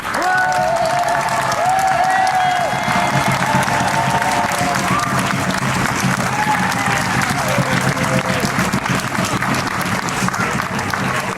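A crowd at a troubadour tournament in Gruyères applauds to cast its vote, loud, sustained clapping from many hands with scattered cheers and voices rising through the din for the whole stretch.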